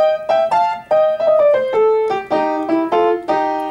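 Boogie piano riff in New Orleans style, played solo: bright repeated right-hand chords and rolling figures in a steady swung rhythm, close and clear with no talk.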